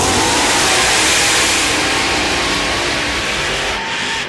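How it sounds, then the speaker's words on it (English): A supercharged drag-racing engine roars at full throttle during a mud drag race run, loud, constant and close for the whole stretch before easing slightly near the end. "Both of them running supercharged engines, going late in the field."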